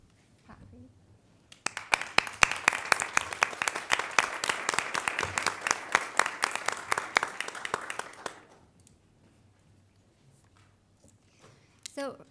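An audience at a school board of education meeting claps for members of a literacy work group, a burst of moderately loud applause lasting several seconds before fading, with quiet room sound and a voice at the edges.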